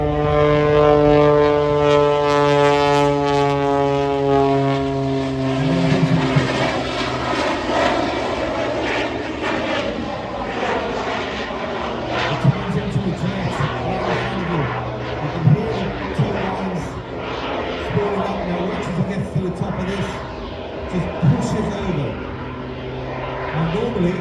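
At an air show, a propeller aircraft fitted with jet engines drones loudly overhead, its engine pitch sweeping and shifting as it manoeuvres, while a commentator talks over the sustained roar throughout.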